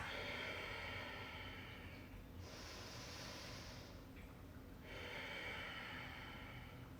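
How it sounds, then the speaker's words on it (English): A slow, deep inhale followed by a long exhale during a relaxing stretching session, heard as a steady, breathy rush of air that swells and eases, with no talking. "y'all breathe. And exhale."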